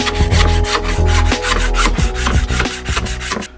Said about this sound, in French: Sur les bords déjà dégrippés, la colle est sèche et s'enlève facilement à la spatule